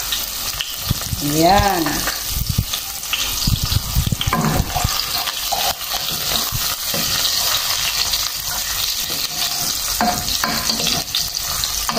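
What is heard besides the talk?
garlic and onion sautéing in a pan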